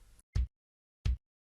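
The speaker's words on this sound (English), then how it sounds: "The sub kick sounds like this." Two deep sub kick hits from an FL Studio beat, a low booming thud each, spaced under a second apart with silence between, close and alone after a brief bit of low noise at the start.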